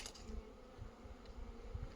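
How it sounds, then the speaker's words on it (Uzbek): Honeybees fly around their hives on a sunny winter midday of about 16 degrees, giving a faint, low buzzing hum that pulses softly without any voices. "Arilar uchibdi mana."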